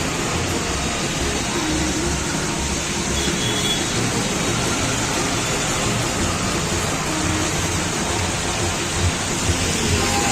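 Rain at a petrol pump in Bhavnagar, a dense, steady roar of heavy downpour pattering on surfaces, loud and unbroken throughout.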